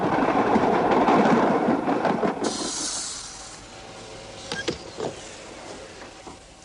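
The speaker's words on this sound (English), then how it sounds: "the first of the new supertrams had arrived at the Metro test centre" A new Metro supertram, a twin lightweight car set, runs at a test centre: a loud broadband rumble and hiss fades after a few seconds, followed by quieter clanks and a hum.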